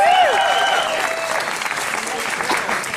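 A media audience at the Halloween Horror Nights 23 opening-night presentation gives a guest film director a loud, sustained round of applause, with a voice rising briefly over the clapping at the start.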